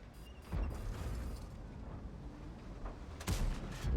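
Heavy tank cannon fire in World of Tanks, with two deep booming shots, one near the start and a louder one near the end, over a continuous low engine rumble.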